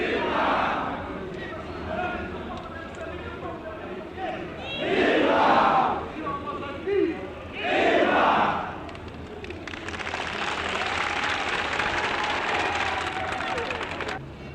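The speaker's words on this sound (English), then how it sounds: "the crowd, including many soldiers, responded with shouts for Russian-Mozambique friendship" A crowd that includes many soldiers shouts rhythmic, swelling chants of Russian-Mozambique friendship in repeated loud bursts, followed by sustained massed cheering and clapping.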